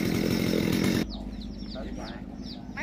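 Chainsaw cutting a large Còng tree beside a house, a loud buzzing engine roar that cuts off abruptly after a second, leaving a lower idle rumble under birdsong and faint voices.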